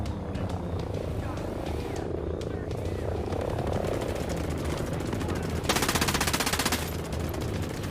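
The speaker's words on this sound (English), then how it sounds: "we got these two helicopters coming in we're going to have to take down" Helicopters approach during a Ghost Recon Breakpoint mission amid a steady rotor drone, with bursts of machine-gun fire, a rapid fusillade near the end, and someone talking over the action.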